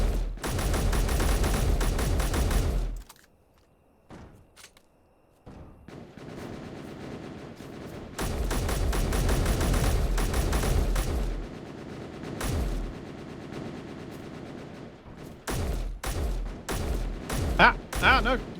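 Gunfire from the video game Space Engineers comes in loud, rapid bursts of automatic fire, separated by brief quiet gaps and scattered single shots.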